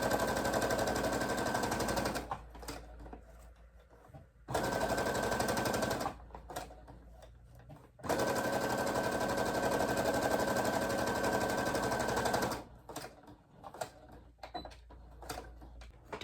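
A sewing machine set to a 4.0 stitch length stitches a fabric bookmark in three long, steady mechanical runs, each a few seconds, with short quiet pauses between them and no talk.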